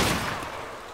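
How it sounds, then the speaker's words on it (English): A single gunshot fired into the ground in DayZ, a loud close report with a long ringing tail, heard alone. "I'm gonna shoot the ground."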